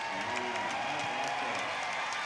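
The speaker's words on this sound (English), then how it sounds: "Listen to the crowd. It is euphoria here next to Gasoline Alley" A crowd at the Indianapolis 500 qualifying near Gasoline Alley roars and cheers, a dense, steady wash of distant voices and applause that holds at an even level throughout.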